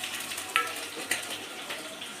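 White sesame seeds, curry leaves and chopped chili spit and crackle in a little hot oil, a soft continuous frying sizzle with a couple of sharp pops and faint stirring, no voices.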